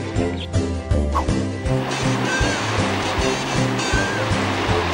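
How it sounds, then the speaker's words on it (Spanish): Pacific Ocean waves break along the Chilean coast at Cardenal Caro, a broad surf wash sitting beneath loud, rhythmic music. "La magia del Océano Pacífico en Cardenal Caro y sus espectaculares olas."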